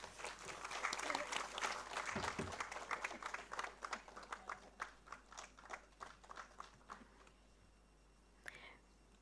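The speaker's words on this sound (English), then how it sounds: "A big round of applause for the release." An audience at a National Science Day event applauds a book release, with dense clapping at first that thins into scattered individual claps and fades out toward the end.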